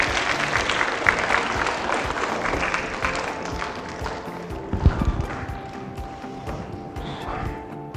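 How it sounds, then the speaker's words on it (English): A school assembly audience gives a round of applause for the children, dense close clapping that gradually thins and fades, with shuffling movement and faint voices underneath. "can we give our wonderful children, a nice round of applause for their help this morning?"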